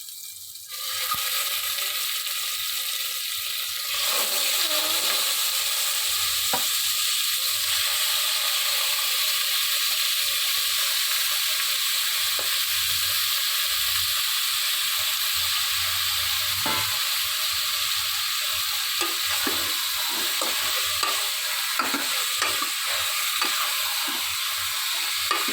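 Mutton pieces frying in hot oil with a little ground masala paste, a loud steady sizzle that runs throughout with occasional stirring scrapes and no voices.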